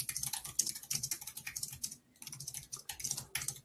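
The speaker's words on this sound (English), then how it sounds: "he's typing in the chat box the prompt" Fingers type a prompt on a computer keyboard in quick, steady bursts of close, light clicks, with one short pause midway and no voices.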